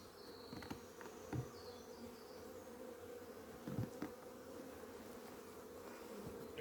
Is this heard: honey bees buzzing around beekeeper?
yes